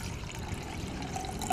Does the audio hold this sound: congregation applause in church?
no